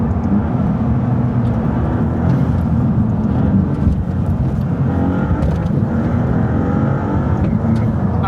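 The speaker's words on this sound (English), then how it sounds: "Loads more turbo whistle, bit gruntier, less kind of tinny." A Maserati engine revs hard with turbo whistle, a steady, loud, gruff roar that holds near and constant throughout with little letup.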